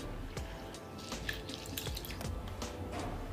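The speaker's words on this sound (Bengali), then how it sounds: "এবার মসুর ডাল ভালো করে ধুয়ে নেব।" Red lentils (masoor dal) being rinsed in water, with steady dripping and splashing water and faint sink-tap running, close and continuous throughout.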